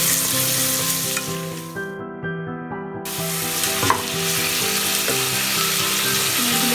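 Ginger and garlic sizzle in a pan for Kottayam-style beef curry, a loud steady frying hiss with stirring strokes, briefly dipping before returning at full strength.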